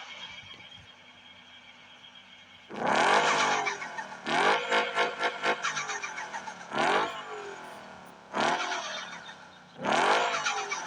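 A car engine idles quietly, then is revved hard five times in loud, close, rising bursts, each one dropping back toward idle between the revs.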